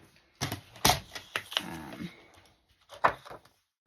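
Scissors snip through a paper journaling block cut from a 3x4 cut-apart scrapbook sheet, giving several short, sharp, close cuts in an uneven rhythm with brief pauses between them.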